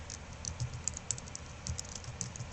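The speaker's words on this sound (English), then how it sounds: "and I'm going to type in Glenn" Keystrokes on a computer keyboard typing a name into an archive catalog search box, a steady run of light clicks, close and fairly quiet, with no talking.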